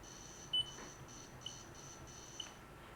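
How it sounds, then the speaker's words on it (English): Launch Pad device running a buzzer test, a string of faint, evenly spaced electronic beeps repeating about every half second with one sharper chirp near the start. "and then a buzzer test."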